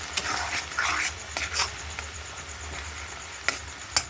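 Spice masala is fried and stirred in a kadai for a mutton curry, with a steady soft sizzle under irregular scraping strokes of a spoon, a couple of sharper clacks near the end, close and moderately quiet.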